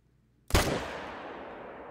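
A single sharp rifle shot taken at a distant animal in theHunter: Call of the Wild, loud and sudden after near silence, followed by a long fading echo.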